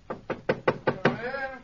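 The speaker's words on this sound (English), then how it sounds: "Let's tap on his study door." Six evenly spaced knocks on a study door in a 1946 Sherlock Holmes radio drama, crisp and close, followed by a brief voiced tone as someone begins to answer.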